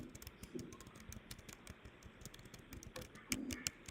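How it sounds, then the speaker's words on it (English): Quiet tapping of computer keyboard keys in an irregular run of light clicks, with a faint background hum and a slightly louder burst of keystrokes near the end. "Can you hear me typing?"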